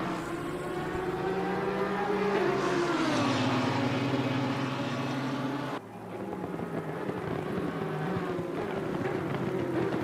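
Racing cars roar through a racing video game at Laguna Seca, a mid-engined Lamborghini among them, in a loud continuous engine drone that rises and falls in pitch, briefly dipping near the middle before resuming.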